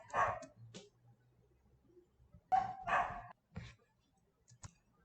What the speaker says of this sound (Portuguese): porque o cachorro estava latindo